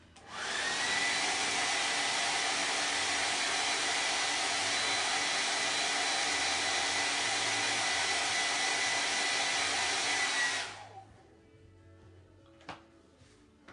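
Hair dryer blows steadily on glue for about ten seconds, a loud, even whooshing hiss before it cuts off, followed by a quiet room and a single faint click.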